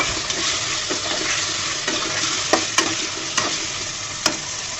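Spinach and lentil curry fries in a pan with a constant loud sizzle, and a few sharp scrapes and clinks come through as it is stirred.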